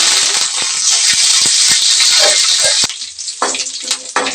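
Curry leaves drop into hot oil already holding mustard seeds and dried red chillies for a tempering, giving a loud, close, steady hiss. The sizzle cuts off abruptly near the end, leaving a few quieter clatters and stirring sounds.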